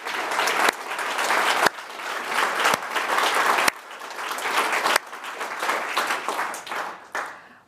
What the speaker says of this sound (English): And I think you deserve another round of applause.